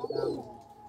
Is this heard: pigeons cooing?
yes